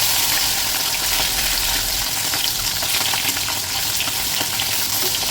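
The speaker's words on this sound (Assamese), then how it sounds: "তেলখিনি গৰম হ'ল তেতিয়া মই মাছ কেইপিচ দি দিম।" Fish pieces fry in hot oil in a pan for an Assamese fish curry, giving a dense, loud, continuous sizzle with fine crackles and spits close up and no talking.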